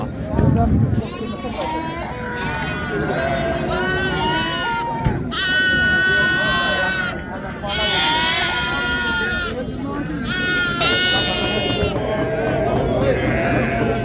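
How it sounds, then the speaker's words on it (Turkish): Young rams at a crowded sheep market bleat repeatedly in overlapping wavering calls, close and loud, with people talking underneath. "hamısı qoşduqdur, qoşduq. Qoşduq heyvanlardır."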